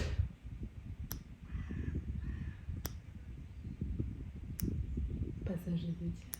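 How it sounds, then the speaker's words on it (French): A crow caws several times, sharp and spaced out, over people talking in French in the foreground. "Il y a eu un corbeau."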